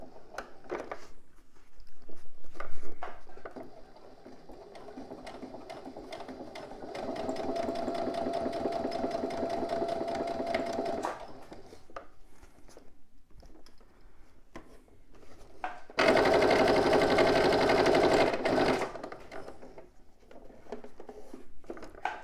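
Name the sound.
sewing machine topstitching lining at zip corner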